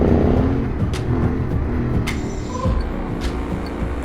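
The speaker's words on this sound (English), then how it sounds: "overtaking Volkmar on these little Kellel roads" A Yamaha Ténéré motorcycle rides gravel roads near the Bosnian border, its engine a steady close drone that rises briefly as it overtakes another rider, with wind rush and loose-surface rumble underneath.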